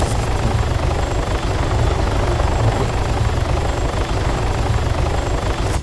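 Helicopter in the military game Arma 3, a steady loud rotor drone with heavy low thumping that holds unbroken throughout, with no voices.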